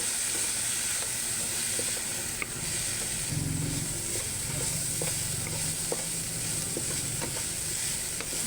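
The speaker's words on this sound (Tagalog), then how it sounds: "Pa-brown lang natin dyan yung ating ground pork." Ground pork browns in a pan with mushrooms, a steady close sizzle and hiss of frying punctuated by occasional scrapes and stirring clicks, no voices.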